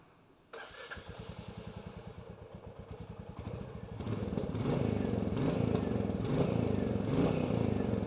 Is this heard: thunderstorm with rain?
no